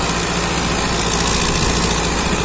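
A Powertrac Euro 60 tractor engine runs steadily at constant revs, a continuous loud diesel drone with a low rumble throughout, close by and without voices.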